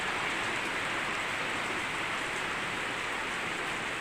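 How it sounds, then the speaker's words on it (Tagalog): Sudden heavy rain at night pours down in a dense, steady hiss across the whole stretch, constant and loud with no let-up. "So gabi biglang umulan,"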